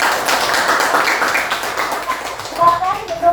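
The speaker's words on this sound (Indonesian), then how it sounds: "baik, kita beri tepuk tangan" A classroom of students gives a round of applause after a group presentation, the clapping close and steady, with a teacher's voice breaking in near the end.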